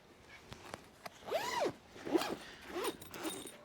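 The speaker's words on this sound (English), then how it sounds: "And zip this back up." A zipper on a Nokta Makro metal detector backpack is pulled closed in several quick strokes, each rising and falling, preceded by a few soft clicks and handling taps, close and clear.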